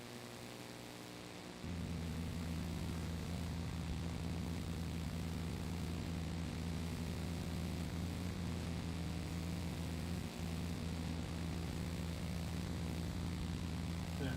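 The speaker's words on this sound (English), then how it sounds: "Let's see this Embraer come in." An Embraer jet on approach to land at SFO, a steady low engine drone that swells slightly louder and holds constant, heard alone at moderate distance.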